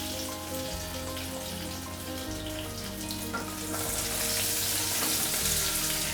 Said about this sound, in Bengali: দেখুন আলুগুলো আমি হালকা ভেজে নিয়েছি